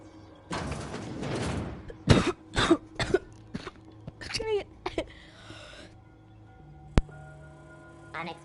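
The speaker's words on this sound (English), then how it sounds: "I was coughing, man." Person coughing and clearing the throat in a sharp cluster of loud hacks inside the video game The Outer Worlds, followed by faint shuffling and a single thump.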